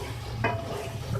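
Chopped tomatoes cook in a pan with a steady sizzle, while a spoon scrapes and stirs through them in one short, clear pass near the microphone.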